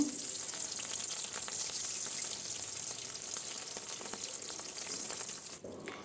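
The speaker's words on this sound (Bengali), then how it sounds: "এখন আমি মাছগুলো এখানে ভেজে নিব" Pangasius fish pieces fry in hot salted oil with a continuous loud, hissing sizzle close up, a few faint clinks over it, cutting off near the end.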